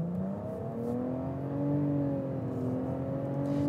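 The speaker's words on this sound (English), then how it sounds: "Let's go ahead and slow things down so I can rev it up." A 2023 Nissan Rogue turbocharged three-cylinder engine revs in a steady, droning hum that rises and falls slightly, close by with no talking.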